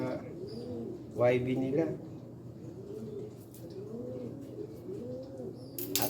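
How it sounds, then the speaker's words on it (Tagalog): Racing pigeons cooing in a loft, repeated soft rolling coos at a steady rhythm throughout, with someone talking over them briefly. "Mag-iiyakan na yung mga ibon natin"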